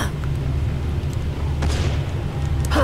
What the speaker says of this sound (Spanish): parece que se escuchan las balas